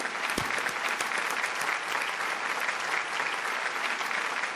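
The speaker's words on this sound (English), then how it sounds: "Can we please hear the applause for both these remarkable gentlemen?" Steady applause from an audience, dense and sustained clapping at even volume throughout.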